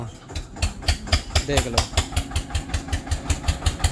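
An Eicher tractor engine idles near a welder's shop, a loud rhythmic diesel thumping at a steady beat with a brief spoken remark over it.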